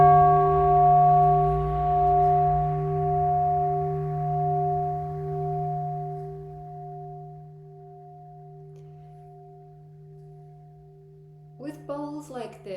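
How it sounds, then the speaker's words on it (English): A rare 12-inch ruby and palladium crystal singing bowl in the third octave hums a deep, steady drone with bright overtones that slowly fade, and a voice starts talking at the very end. "This bowl in octave 3 creates a very low, soothing drone."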